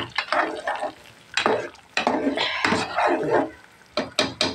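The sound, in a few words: tempering spices sizzling in hot oil for jute leaf lentil dish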